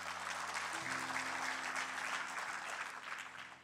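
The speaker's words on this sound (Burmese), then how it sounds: "အားလုံးပဲလက်ခုပ်တီးပေးရအောင်" A church congregation claps together during a worship service, a dense, steady wash of many hands that holds for several seconds and eases slightly toward the end, with faint sustained musical tones underneath.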